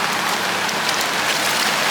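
Heavy monsoon rain in Manila pours down steadily, a dense, unbroken hiss with no pauses and no voices.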